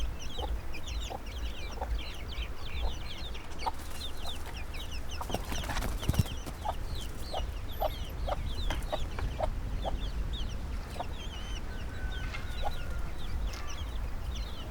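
Chickens cluck steadily in a farmyard for the whole stretch, with repeated short calls and a louder sharp sound near the middle, no talking over them.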